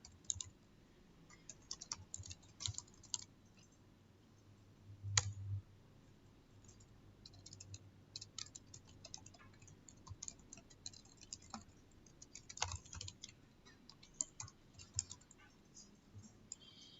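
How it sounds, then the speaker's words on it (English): Soft, irregular clicking of keys on a computer keyboard during a hands-on coding session, faint and close, with scattered keystrokes and a few louder taps. "there is a way to reduce all this typing"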